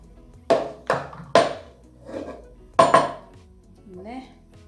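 A heavy cooking pot and metal utensils clank sharply while sweet coconut filling is scooped out in a kitchen, five or six distinct ringing knocks spaced irregularly, loud and close.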